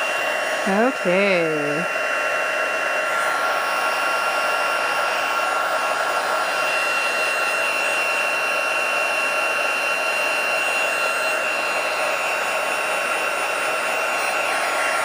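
Steady whooshing roar of a heat embossing tool warming embossing powder on a handmade Christmas card, loud and continuous throughout, with a brief spoken word near the start.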